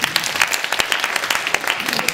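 An audience at a talk show applauds, a brisk, even patter of many hands clapping close and loud throughout.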